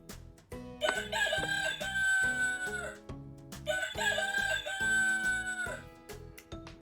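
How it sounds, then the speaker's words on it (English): A rooster crows twice in long, loud, drawn-out calls, each rising and then trailing off, with a short pause between them. "It's a rooster."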